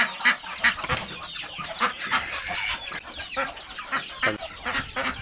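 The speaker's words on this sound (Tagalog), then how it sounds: "Tingnan mo, dandami ng manok ko kung nakapokus lang ako dito." A flock of backyard chickens clucks and squawks in a busy overlapping chorus, close and fairly loud, with steady irregular calls throughout and no talking.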